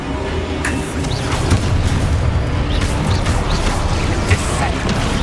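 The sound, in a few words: Confringo fire explosion spell in Hogwarts Legacy video game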